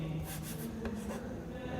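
Pen writing on paper during a maths lesson, a close, soft scratching run of short strokes that continues through the brief moment with no voice over it.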